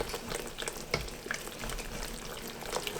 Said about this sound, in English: I'm just going to keep stirring it down